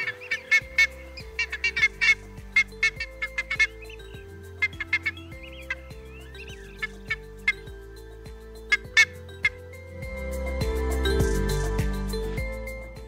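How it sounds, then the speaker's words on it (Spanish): A flock of black-faced ibis (Theristicus melanopis) gives loud, honking, metallic calls in quick irregular bursts. A louder, denser chorus swells near the end. "Cuando la bandada se traslada volando a otro lugar, suelen emitir una potente y característica vocalización."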